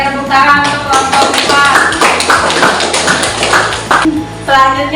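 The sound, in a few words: classroom applause for a presenting group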